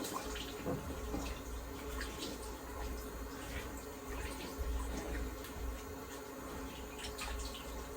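Water runs steadily from a tap while a safety razor is rinsed beneath it, a continuous close hiss and splash with small clinks, no voices.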